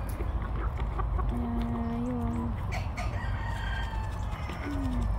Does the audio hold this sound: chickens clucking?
yes